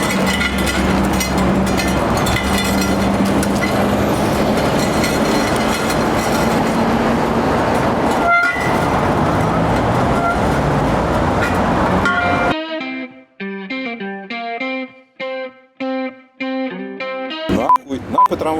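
A tram running along track inside a depot in Tver, a loud continuous rumble and rattle of wheels on rail for most of the stretch, then cutting out to leave sparse tonal clanks and knocks.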